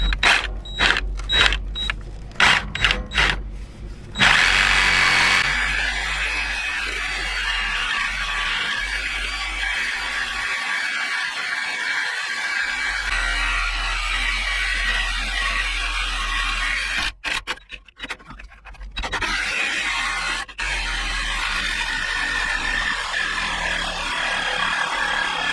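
A Sawzall reciprocating saw cuts through the metal of an old stepside pickup truck. A steady, loud, rasping buzz runs through most of the clip, with several short choppy bursts at the start and a brief break near the end.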